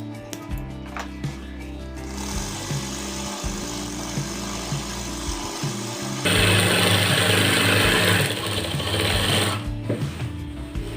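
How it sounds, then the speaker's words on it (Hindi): A sewing machine runs a double line of stitching along a shirt sleeve, its motor whirring continuously and growing louder and busier partway through, with a steady mechanical drone throughout. "अब हम इसके पास एक और डबल सिलाई लगाएंगे।"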